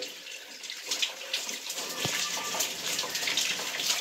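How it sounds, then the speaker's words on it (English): Shower water runs steadily during hair washing at home, a continuous close hiss of spray with slight surges and no talking. "And I shower."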